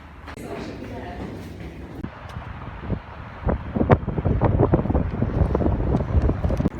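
Gusty cold wind buffets the microphone in low rumbling bursts that grow stronger toward the end, with some indistinct voices underneath, outdoors in Berlin.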